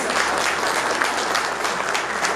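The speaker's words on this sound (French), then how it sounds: "Je voudrais qu'on l'applaudisse." Warm, continuous applause from a seated crowd at a Fête du Trône celebration in Montreal, greeting Alain Olivier with a dense, even wash of clapping.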